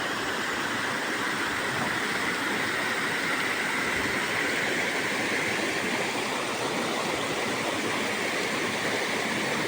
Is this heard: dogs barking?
no